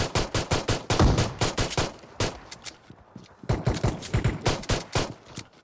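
Gunfire in the PUBG Mobile battle royale game, shotgun blasts mixed with rapid bursts, loud repeated sharp shots in quick clusters with a brief lull midway.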